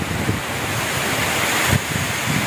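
Typhoon wind and rain roar steadily in Ligao, Albay, a dense continuous rush of gusts and falling water with a brief swell near the end and no voices.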